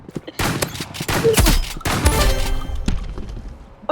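Rapid bursts of shotgun fire in a video game, several sharp, loud blasts in quick clusters with short gaps between them.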